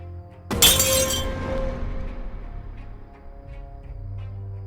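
Window glass shatters in a sudden loud crash inside a house at night, followed by a long scatter of falling shards and fading rattles; no one speaks.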